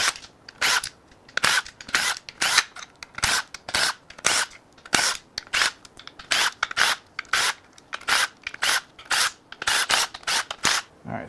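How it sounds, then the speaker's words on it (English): Ratchet wrench clicking in quick regular bursts while unbolting the upper oil pan from a failed Audi 3.0 TFSI EA837 V6 engine during a teardown, loud and close with no voices. "Now we can unbolt the upper oil pan."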